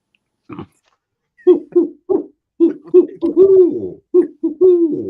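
A man imitates a great horned owl with a string of deep, resonant hoots, first single, then in quick pairs and longer drawn-out calls, close and clear against silence.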